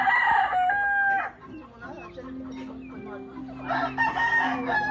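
A gamefowl rooster of the RG Imbulik Batman line crows loudly and close by, one full crow at the start and a second rising toward the end, with clucking and murmured farmyard sounds between.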